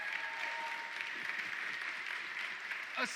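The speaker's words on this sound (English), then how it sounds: "A smattering of applause" Light, scattered audience applause during a live reaction to a Guild Wars 2 announcement, a steady thin patter of clapping at moderate distance with a faint voice briefly rising near the end.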